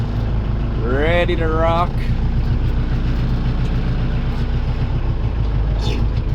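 A homemade firewood processor's engine runs at a steady idle, a constant low rumbling hum throughout, while someone speaks briefly near the start.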